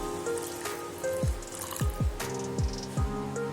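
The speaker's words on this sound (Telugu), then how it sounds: "ఈ గ్లాస్లో" A glass of water is poured into mutton curry in a pressure cooker, giving a few separate drips and splashes at a quiet, close level.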